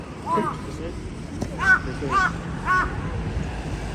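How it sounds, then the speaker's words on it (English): A big crow caws several times at moderate distance on a morning street in Ikebukuro, Tokyo, harsh repeated calls spaced across a few seconds over faint background noise. "That's a big crow, man."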